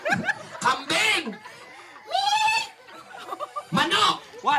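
People imitate a goat bleat during a noisy animal-sounds party game, giving wavering, drawn-out bleating cries mixed with chuckles and laughter, with shouting voices nearby.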